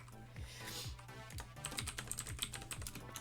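Rapid keyboard typing, a steady run of clicking keystrokes close to the mic, busier and louder toward the end over a low background hum.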